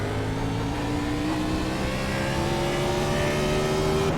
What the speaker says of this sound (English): Get the car going, get it up to speed here.